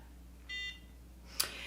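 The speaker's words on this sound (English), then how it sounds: "Once it beeps, that's how you know when to move into the next area." A NuFace microcurrent facial device gives a short, faint electronic beep, followed a moment later by a soft click, in a quiet room.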